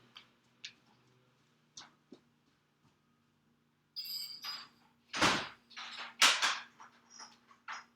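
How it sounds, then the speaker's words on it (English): A few faint clicks and taps, then a burst of rustling and a solid door closing with a thud, followed by more close handling noises. "I'm going to close the door."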